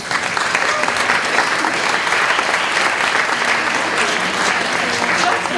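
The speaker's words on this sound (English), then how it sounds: "let's first give our panelists a round of applause" A room full of attendees gives a panel on school readiness a loud, sustained round of applause, dense continuous clapping from start to finish.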